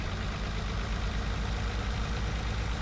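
A 640 horsepower MAN truck engine in Farming Simulator 19 holds a steady, low, rumbling drone, even and continuous with no other sounds over it.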